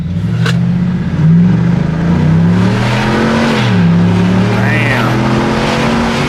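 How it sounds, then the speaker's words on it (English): A new pickup truck's engine accelerating in sport mode, heard from inside the cab, loud and continuous, with rising and falling gear-change tones. Talk is faint. "this truck sounds crazy. Like, you guys can hear that beat"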